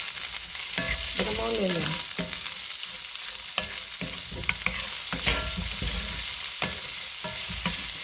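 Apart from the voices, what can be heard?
onions sautéing in a pan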